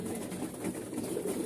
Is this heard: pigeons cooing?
yes